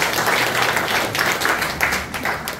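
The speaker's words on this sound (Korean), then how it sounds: "박수 한번 보내주셨으면 좋겠습니다" Applause from an audience at a local Democratic Party members' gathering in Nampyeong, steady dense clapping that fills the whole stretch at a moderate level with no clear pauses.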